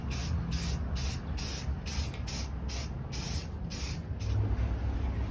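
Rapid pulses of spray paint hissing out in satin black onto the undersides of a Baltic birch console table, a steady broadband spray broken by short regular gaps, close and fairly loud with no talk.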